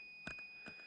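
Warning beep from a power inverter in a Land Rover Defender 90 Td5 with the engine off: two short, faint electronic beeps about half a second apart, set against a steady high-pitched background tone.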